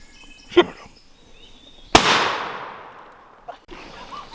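A single sharp shotgun blast during a morning turkey hunt, loud and close with a long echoing decay across open ground, preceded by a faint click and followed by soft rustling, no talking.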